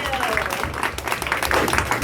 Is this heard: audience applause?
yes